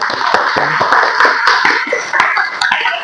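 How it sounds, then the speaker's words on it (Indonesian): Classmates clap for a student in a classroom, a short burst of close, uneven hand claps with sharp individual smacks scattered across a few seconds. "Aplaus untuk Mbak Pasadena"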